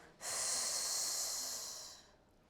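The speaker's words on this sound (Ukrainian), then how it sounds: "Давайте разом вдих в живіт, видих в сторону." One long, airy breath close to the microphone during an Oxysize breathing exercise, starting abruptly, holding steady for nearly two seconds, then fading out.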